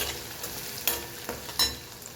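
Potatoes and spices fry in a pan as a utensil stirs them, giving a soft steady sizzle with a few sharp scraping clicks.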